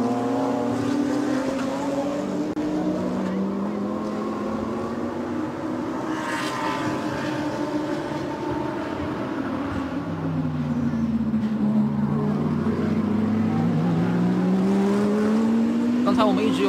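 GT4 race cars lapping the circuit at a GT race in Zhuhai, engines droning and rising and falling continuously as they pass, loud throughout and mixed with steady background commentary.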